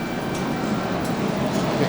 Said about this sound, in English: Here we are, Sunday morning, on our way up to Niigata on the bullet train.